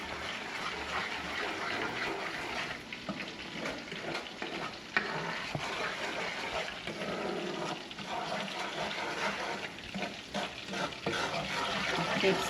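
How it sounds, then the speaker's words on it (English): Hennessy glaze with brown sugar being stirred in a frying pan, a steady bubbling sizzle with continual scraping and stirring at close range; no talking. "Keep stirring because you need to break that brown sugar down"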